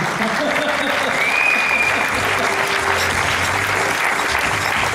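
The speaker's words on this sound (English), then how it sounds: "Give her a round of applause, ladies and gentlemen." A seated audience gives a speaker a round of applause, loud, dense clapping that stays steady throughout, with faint tonal sounds and low murmur beneath it.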